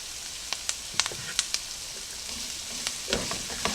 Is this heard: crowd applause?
no